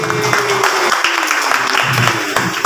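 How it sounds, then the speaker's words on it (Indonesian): Audience clapping breaks out briefly, a short burst of applause mixed with room noise and a low hum. "Makanya bagi saya tepuk tangan buat Pak Erik."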